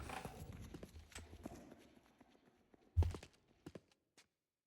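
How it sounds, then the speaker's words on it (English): Footsteps in the zombie survival video game The Killing Antidote: a few soft, scattered steps under low ambient noise, with one sharper thud near the end followed by brief taps. "heard a weird little footstep"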